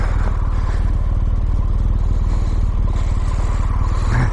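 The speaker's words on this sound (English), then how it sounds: "Always feels so good to ride a motorcycle." BMW R1200GSA motorcycle under way, its boxer engine a loud, steady low throbbing pulse right up close, with wind rush layered over it throughout.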